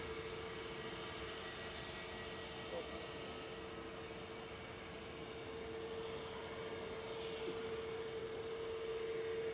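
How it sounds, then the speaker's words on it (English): A six-year-old EasyJet Airbus A320neo departs Manchester Airport, its jet engines producing a steady, continuous broadband roar with a sustained tone that holds evenly throughout, heard from a distance. "Next up for departures, EasyJet Flight 715 over to the Isle of Man."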